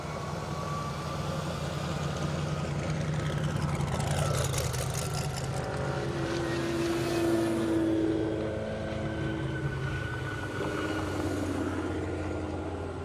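A 2021 Ferrari F8 Spider and a 2021 Audi RS7 race a half-mile airport drag strip in Indiana, engines roaring and sweeping past from a distance, the pitch rising then falling as the cars pass, over steady background engine noise.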